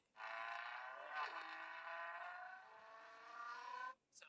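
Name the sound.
car engine sound in a guessing game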